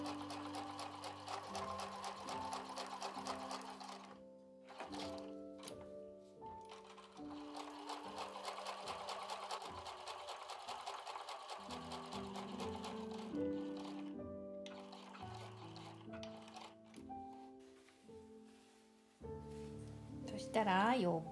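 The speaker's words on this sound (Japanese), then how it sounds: "それから裏布を重ねてミシンで縫いますよ。" A sewing machine stitches lining fabric onto a small patchwork pouch, whirring in steady runs broken by brief pauses, with background music and a voice underneath.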